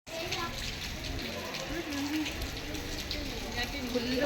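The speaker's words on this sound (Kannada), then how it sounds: "ಫುಲ್ಲು ಮಳೆ ಫ್ರೆಂಡ್ಸ್, ಸಿಕ್ಕಾಪಟ್ಟೆ ಮಳೆ." Heavy rain pours down at the Saligrama Srinivasa temple, a constant dense hiss under a busy crowd, with people talking close by throughout.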